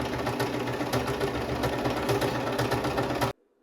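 Serger sewing machine running steadily while stitching a thrifted blanket, a fast, even mechanical whir and rattle up close that stops abruptly near the end.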